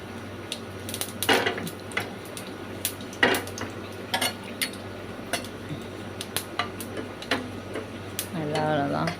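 Metal clinks and scrapes of a utensil in a pan as mustard seeds and dried red chillies are tempered in oil, with a brief sizzle and crackle near the end, close by and fairly quiet.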